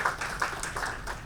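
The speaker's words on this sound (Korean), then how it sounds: "발표해 주신 우리 유성필 단장님께 박수 부탁드립니다" Brief burst of audience applause at a Jeju space industry forum after a presentation, a loose scatter of hand claps from a modest crowd in a conference hall.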